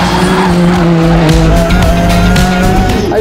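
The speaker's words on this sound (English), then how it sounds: "we are going to race with Hyundai i30 TCR at the legendary Nurburgring" A Hyundai i30 TCR race car races at the Nurburgring in a 24-hour qualifier. Its engine roars loud and close with rising and falling revs, and the tyres squeal throughout.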